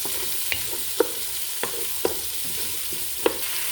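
Garlic and tomato frying in olive oil, a continuous close sizzle punctuated by five or six crisp spatula clicks at irregular intervals, with no voices.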